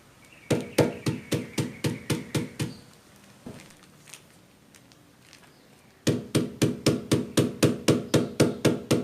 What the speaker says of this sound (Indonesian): Alat pukul ini bisa menggunakan palu ya, alat untuk memukul paku itu bisa.